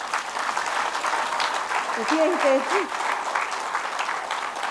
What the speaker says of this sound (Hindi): हितेश जी के लिए एक बार फिर से तालियां मार